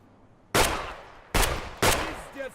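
Three loud, close gunshots in Escape From Tarkov, from a buckshot or slug weapon, spaced unevenly with ringing decay after each blast and near-silence before the first.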